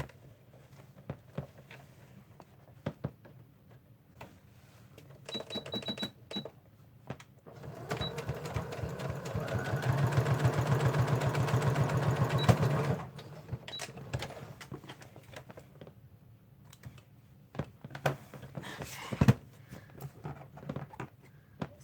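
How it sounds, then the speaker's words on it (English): Sewing machine running a top stitch on a fabric wallet insert, faint clicks and handling at first, then a steady whirring run in the middle before stopping for further small clicks and taps. "just fold in your raw edges and then we'll do a top stitch there."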